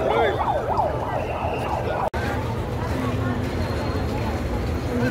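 An ambulance siren wailing on a street, its rising and falling tone clear at first and then fading as it moves off, over outdoor street noise with people talking nearby.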